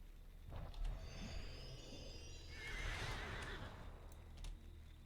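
An ice flower steed mount in the online game LOTRO gives a clear whinny, with soft hoof clip-clops around it, all fairly faint and with no talk over it.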